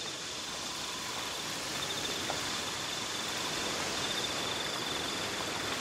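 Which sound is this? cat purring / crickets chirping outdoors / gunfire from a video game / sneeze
crickets chirping outdoors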